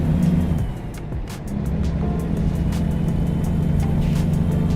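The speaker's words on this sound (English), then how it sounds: "I'm using the S60R, which is the car that I have here." A Volvo S60R engine in a driving video game, a steady low drone with a brief dip in revs before it settles back into an even hum, close and continuous with no talking.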